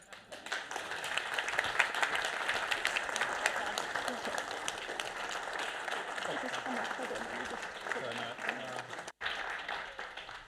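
Sustained audience applause fills a lecture hall after a talk on music and drinking in Restoration Britain, steady and dense for about nine seconds before breaking off, with a few voices murmuring underneath.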